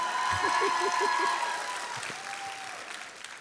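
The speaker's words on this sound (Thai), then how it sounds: "ขอเสียงปรบมือหน่อยสิฮะ" A small audience claps, a short burst of applause that fades out, with a voice briefly heard at the start.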